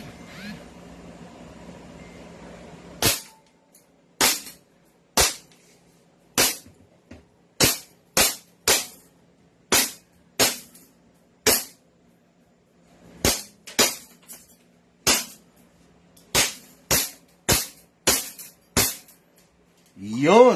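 Gunshots from a newly unboxed firearm ring out in a test: about eighteen sharp, loud reports, spaced irregularly and often in quick pairs, over a quiet background with faint speech near the end.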